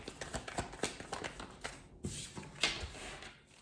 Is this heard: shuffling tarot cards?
yes